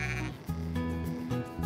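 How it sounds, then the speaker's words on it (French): Sheep on an Irish farm bleat in a close, wavering chorus, several overlapping calls following one another with no pause. "il faut ramener les moutons à la ferme"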